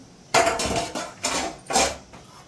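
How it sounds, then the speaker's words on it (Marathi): A metal lid is lifted off a cooking pot of chicken and masoor dal pulao, giving a few close, clattering metallic clanks. "आता आहे ना झाकण काढते मी"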